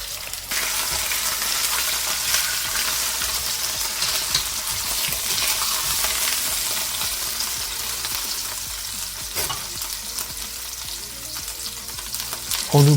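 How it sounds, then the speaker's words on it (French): Two ham hocks searing in olive oil in a saucepan, a loud, continuous crackling sizzle heard up close with faint stirring and no voices. "Dans une casserole, on met un fond d'huile d'olive et on saisit bien les 2 jambonneaux."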